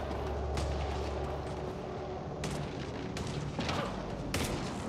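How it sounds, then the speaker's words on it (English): Enemy gunfire in the video game Mass Effect: Andromeda, a dense rumbling barrage with several sharper bursts and booms standing out, continuous and fairly loud throughout. "They're shooting me wherever they are."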